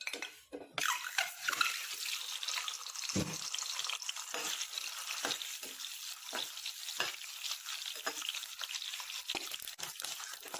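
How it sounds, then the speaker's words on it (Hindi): Eggs frying in hot oil in a kadhai on a gas stove, giving a steady close crackling sizzle throughout with sharper pops and spatters. Occasional stirring clatters sound over it, and no one speaks. "अंडे को पहले फ्राई करेंगे हम"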